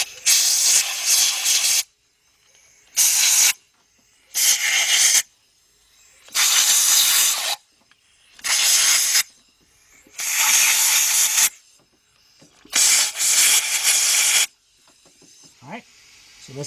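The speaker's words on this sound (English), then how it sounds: "You want to stick our air tool in there." Compressed air tool blasting out the engine bolt holes on a 2004 Chevy Monte Carlo 3.4 V6 during intake manifold and head gasket work: seven loud, close hissing bursts of a second or two each, separated by short silences, with no talk.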